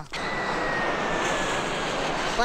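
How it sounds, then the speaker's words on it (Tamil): An airplane passes overhead with a steady, loud engine roar that holds evenly throughout, with no voices present. "எனக்கு இந்த ஃப்ளைட்ல பறக்கணும்னு ஆசையா இருக்குப்பா."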